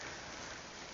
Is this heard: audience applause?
no